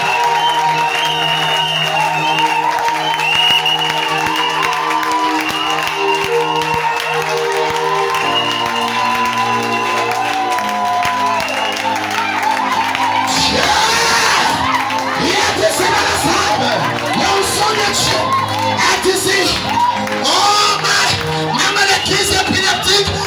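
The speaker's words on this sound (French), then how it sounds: "Acclamons pour Jésus." A worship crowd cheers and shouts in acclamation for Jesus, loud sustained voices and whoops over tonal music, swelling into a denser roar of cheering and clapping midway.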